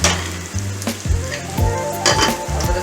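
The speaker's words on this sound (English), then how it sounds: "give it a quick stir" Okra sizzling in a pot as a spoon gives it a quick stir, loud close frying hiss with a few knocks and scrapes against the pot, no voices.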